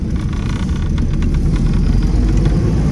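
An Austin 7 car engine runs with a steady, close, low rumbling drone and a rough, even texture throughout, with no speech.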